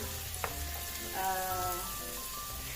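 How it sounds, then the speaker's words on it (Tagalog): Chopped medium onion sautéing in a pan, a soft steady sizzle with a faint utensil clink near the start and background music tones running over it. "Igisa natin itong sibuyas hanggang sa"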